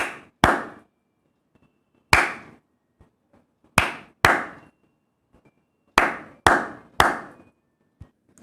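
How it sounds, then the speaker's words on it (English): Children in a primary maths class clap hands in short counted groups, sharp separate claps arriving in pairs and threes with quiet gaps between, close and fairly loud. "Now we will be doing the clap 2 times."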